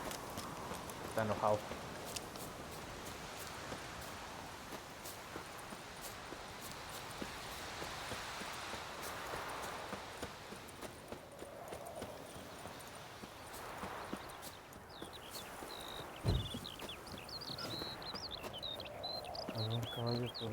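Horse hooves clip-clopping in the video game The Witcher 3, a quiet rhythmic trot under game ambience and birdsong, with someone talking over it.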